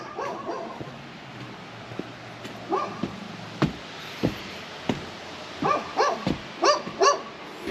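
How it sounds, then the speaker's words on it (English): A dog barks in the background of a workshop where a loader bucket is being repaired and welded, giving scattered single barks and short yipping bursts, some whimpering, moderately near and alone without talk. "Give it up for Sir Barks-a-Lot in the background."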